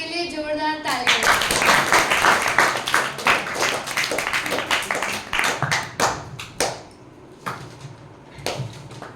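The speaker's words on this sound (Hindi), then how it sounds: "एक बार आराधना के लिए जोरदार तालियां" Loud applause for a young performer after a recitation of the Amarakosha, many hands clapping close and dense for several seconds before thinning into scattered final claps, with a brief tone at the start.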